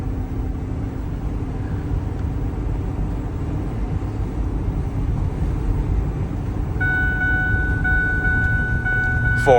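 A 2008 Ford F-350 truck accelerates through its gears, heard from the cab as a continuous low engine rumble, with a rising whine creeping in toward the end.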